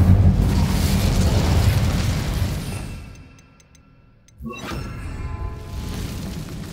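A roaring, explosive blast of the Incendio fire spell in Hogwarts Legacy swells loudly, fades to near silence, then another sharp burst flares up and rumbles on.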